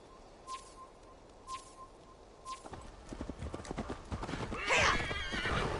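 Horse whinnying and clip-clopping hooves in an Assassin's Creed Valhalla game scene, a few sharp repeated calls at first, then busier hoofbeats and snorting building louder toward the end, with faint birdsong.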